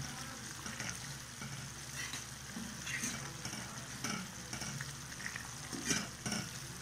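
Tamarind gravy for traditional puli kachal being stirred in a pan, a steady sizzling simmer with soft scraping strokes recurring every second or so, moderately close with a low background hum.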